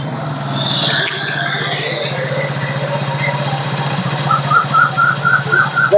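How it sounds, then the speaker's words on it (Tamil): A 2011 Honda Shine motorcycle with a rebuilt cylinder head idles close by with a steady, low, even engine throb, running alone. "இன்ஜின் நல்ல கண்டிஷனில் இருக்குங்க."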